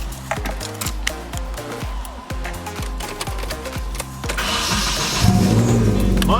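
A Nissan 240SX with a newly fitted starter cranks in a steady run of repeated low pulses, then catches and settles into a louder, steadier idle near the mic, with no talk over it.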